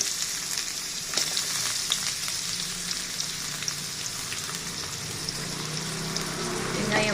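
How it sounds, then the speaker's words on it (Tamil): Onions sautéing over high flame in oil with fennel and whole spices for a cauliflower curry: a dense, even crackling sizzle, close and fairly loud, holding steady for several seconds with no speech. "வெங்காயம் வதங்கணும்"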